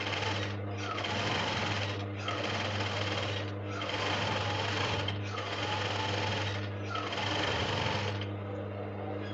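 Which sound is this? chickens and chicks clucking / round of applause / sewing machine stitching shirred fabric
sewing machine stitching shirred fabric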